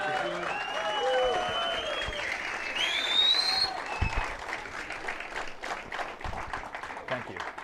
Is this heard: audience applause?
yes